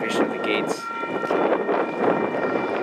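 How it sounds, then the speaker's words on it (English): A train rolling past the Franklin Street grade crossing at Melrose Highlands, a steady broad rumble with sustained tonal ringing or squeal above it and brief bright bursts near the start, loud and continuous throughout. "And we got a train coming."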